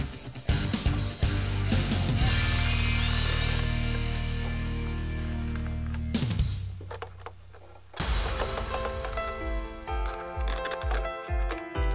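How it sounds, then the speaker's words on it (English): A power drill bores holes in a plastic battery box for a Vectrix electric scooter, giving a loud, sustained whir that bogs down and stops. Bursts of drilling and clicking handling noise follow after a short pause. "I drill a few holes in the plastic."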